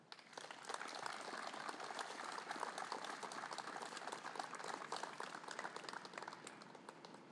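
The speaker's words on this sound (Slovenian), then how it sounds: "zaslužita si vas aplavz." Sustained applause from a crowd gathered at an outdoor commemorative ceremony, a dense even wash of many hands clapping, moderately distant and steady throughout.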